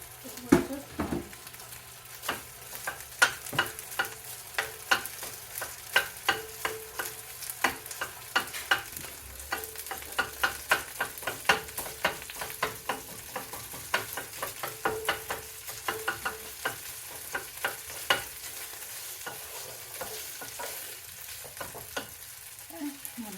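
Sausage gravy sizzles in a pan while a utensil stirs and scrapes it, giving a soft, steady frying hiss punctuated by frequent sharp clicks and taps against the pan; no talking.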